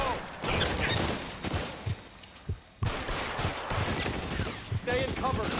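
Repeated gunfire in the crime game L.A. Noire, a fusillade of sharp shots scattered through the clip with short gaps, heard beneath overlapping voices talking.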